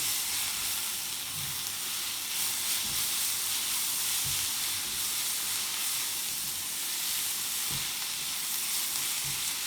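Chopped carrot and vegetables with pepper and salt sautéing in a pan, a steady close sizzle with soft hiss and occasional stirring taps, no talking.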